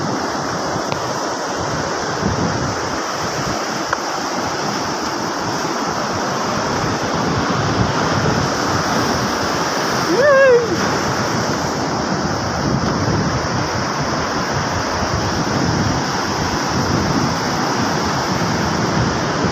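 Surf roars steadily and loudly during a typhoon, big waves near fishing boats, with wind buffeting the microphone and a brief higher whine partway through.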